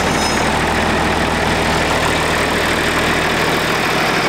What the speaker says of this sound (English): So if you want a beautiful John Deere 4320 diesel, this tractor